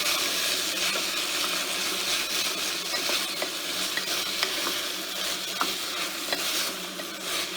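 Dal, sponge gourd, onion and spices being stirred in a pressure cooker, a continuous loud sizzle with scraping and occasional sharp clicks of the spoon against the metal, no voices.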